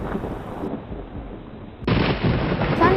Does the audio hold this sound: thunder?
yes